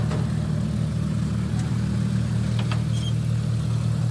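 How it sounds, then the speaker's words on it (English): Light aircraft engine, a Cessna 170B at a STOL competition, winding down after a short-field run: a steady low hum and whir holds throughout, with a few faint clicks over it and no talk. "just shutting down the engine"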